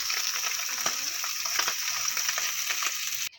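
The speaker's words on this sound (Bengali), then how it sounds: "বাকি মাছগুলো আবারও আমি কড়াইতে দিয়ে দিয়েছি এগুলো একই রকমভাবে আমি ভেজে তুলে নেবো" Puti fish frying in mustard oil in a wok makes a dense, constant sizzle with soft scattered pops, close and loud, ending abruptly after a few seconds; no voices.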